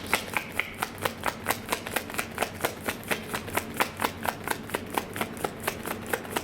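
Tarot cards being shuffled by hand, a steady run of crisp riffling snaps repeating roughly every quarter second for several seconds, close and fairly quiet, with no talking.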